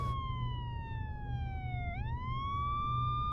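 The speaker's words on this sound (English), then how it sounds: "I waited anxiously as the sirens grew louder." A loud wailing police siren sweeps down in pitch then rises again, clear and steady over a low rumble of background traffic.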